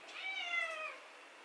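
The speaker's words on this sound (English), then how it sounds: "Cat's getting jealous." A single drawn-out cat meow, clear and fairly close, fading at the end in an otherwise quiet room.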